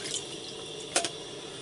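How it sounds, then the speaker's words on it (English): Water pours into a camp pot in a steady close trickle, with a brief splashy surge near the middle. "Pour the water in my camp"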